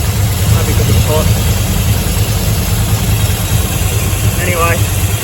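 A 1957 car engine idles loud and steady after a carburettor upgrade, its low rumble running throughout, with brief voices over it.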